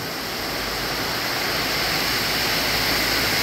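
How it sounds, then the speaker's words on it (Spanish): Heavy rainstorm pouring down steadily, a dense broadband roar of rain that stays constant and close throughout, with no voices. "Con todas ustedes, la gran tormenta, mi gente"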